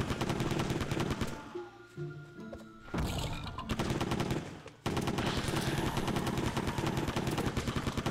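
Rapid automatic gunfire from a Nintendo Switch shooter game rattles almost continuously, loud and dense, with a brief lull before the firing resumes.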